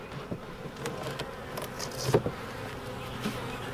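Honey bees drone at a winter hive with starving colonies, a soft steady buzz close by with a faint tap or two and no talking.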